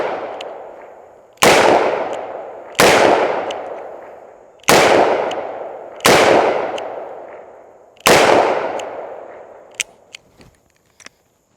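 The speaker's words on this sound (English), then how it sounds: "Smith & Wesson 329 PD is painful to shoot" Five loud, sharp shots from a Smith & Wesson 329 PD .44 revolver, evenly spaced, each ringing off in a long decaying tail, followed by a few light metallic clicks.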